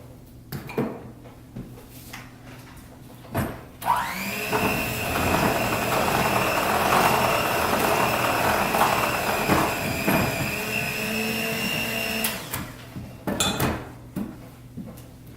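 An electric mixer beats a butter and sugar mixture for snickerdoodle cookie dough, a steady whirring drone running for about eight seconds with brief clinks and bumps of the bowl before and after.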